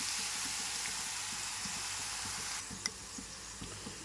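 Garlic and onion paste frying in a pan, with a steady broad sizzle and hiss and a few faint scraping stir sounds. The sizzle softens partway through.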